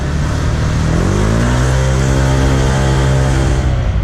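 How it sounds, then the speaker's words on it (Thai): Honda PCX 150 scooter, fitted with a reworked clutch, new variator bowl and aftermarket exhaust, accelerating hard to overtake, its engine note rising steadily and loud and close throughout. "เดี๋ยวดูอัตราเร่งของมัน นะดูนะฮะผมจะแซงดูนะฮะ"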